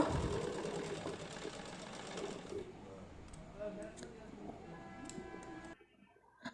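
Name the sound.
sewing machine stitching cloth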